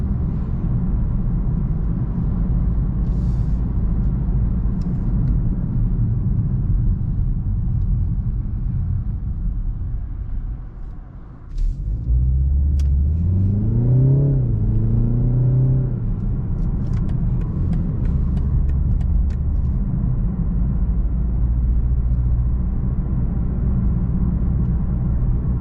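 Steady low engine drone and road rumble inside a moving 2021 BMW 330i xDrive in comfort mode, with a brief dip then a smooth rising rev midway before settling back to cruising.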